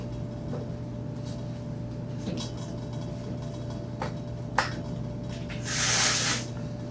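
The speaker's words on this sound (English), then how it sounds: "We're going to spray the top of them a little bit." Spray bottle misting the tops of bread dough in a kitchen, a single hissing burst near the end after a few faint taps and clicks over a steady background hum.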